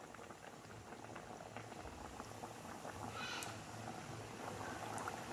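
Wheat muthiya dumplings frying in hot oil over a slow to medium flame, a steady dense bubbling sizzle that holds at an even level throughout with no talk.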